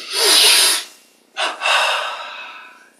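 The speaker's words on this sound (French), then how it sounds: "Ici, on ouvre dans la nuque et on inspire." Two audible breaths during a meditation breathing exercise: a long breathy exhalation, a short pause, then a sharp intake that stretches into a deep, drawn-out inhalation, close to the microphone.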